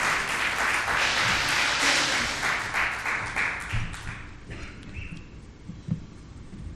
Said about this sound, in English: So a round of applause please for Mr.